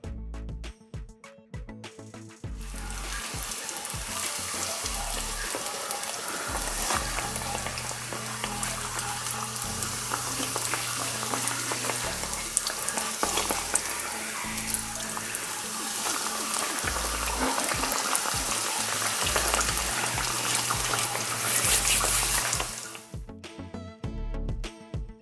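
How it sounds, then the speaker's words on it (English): Square beignets frying in hot oil, giving a dense, continuous crackling sizzle that holds steady for about twenty seconds, bracketed by clattering handling noises at the start and end. "Now let's begin frying."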